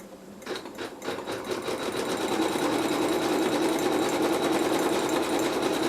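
Sewing machine stitching the last seam of a fabric stocking, starting with a few slow stitches and then running steadily at speed in a close, continuous rapid clatter.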